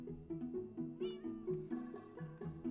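Several quick, bright cat meows in a video game, repeated in a steady, tuneful pattern over a low looping background, close and moderately loud, with no talk.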